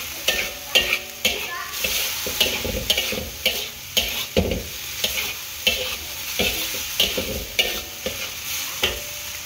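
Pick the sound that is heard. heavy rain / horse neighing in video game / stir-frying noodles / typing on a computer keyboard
stir-frying noodles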